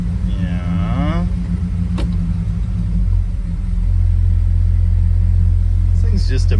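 A 1966 Dodge Coronet station wagon's engine runs at a stubbornly high idle, a steady close low rumble that deepens and grows louder partway through, with brief squeaks and clanks on top.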